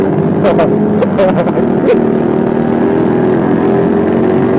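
A loud, steady motorcycle exhaust drone in Jakarta traffic runs throughout, rough and close, with a few brief clicks and knocks near the start.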